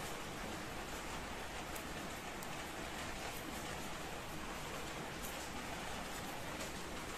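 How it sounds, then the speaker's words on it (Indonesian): Steady rain falls outside, a dense even hiss that fills the whole stretch without breaks, with no voices over it. "di luar hujan jadi suaranya masuk"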